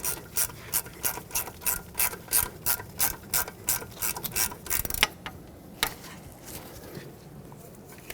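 A hand ratchet tightens a bolt on a Hyundai Sonata steering knuckle, clicking in an even rhythm of short bursts before slowing to a few final clicks, close and clear with no speech.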